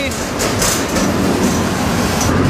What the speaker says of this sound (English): And I'm on this train.